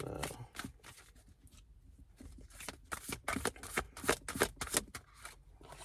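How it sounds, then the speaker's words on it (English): Tarot cards shuffled and pulled from a deck, a close run of crisp riffling and flicking bursts that quicken and grow louder toward the end, with no voices. "I have to pull out all the cards to see what it says first"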